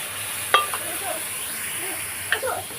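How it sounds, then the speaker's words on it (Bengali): Milk poured slowly into hot caramel in a pan for Bengali mishti doi, giving a steady sizzling hiss with a couple of sharper stirring scrapes, close and fairly loud, and no talk. "এবার আমি বাটি রাখা দুধটাকে আমি এখানে ঢেলে দিয়ে দিচ্ছি আস্তে আস্তে।"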